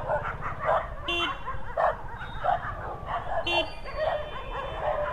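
Several street dogs bark and yip in bursts while chasing a delivery motorbike in Mumbai, their calls fairly close over a steady low engine rumble and traffic noise.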